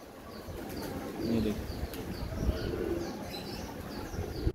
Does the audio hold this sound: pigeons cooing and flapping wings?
yes